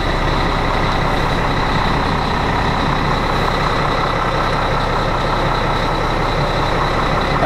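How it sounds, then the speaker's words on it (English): A 2000 Volvo D12 diesel semi truck with a 10-speed sits idling after a cold start, its engine rumbling low and steady, loud and close throughout with no talk. "Yep, VE D12 diesel engine."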